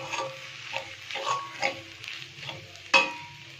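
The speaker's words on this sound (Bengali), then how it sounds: "সকালে খাবারের জন্য তোকে ডিম ভুজি করে নিচ্ছি" Scrambled egg (dim bhurji) frying in a pan, with a low sizzle under repeated soft scrapes of stirring and one sharper metallic knock near the end, all close by.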